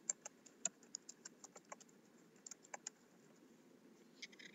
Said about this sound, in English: click in the individual fields and type the following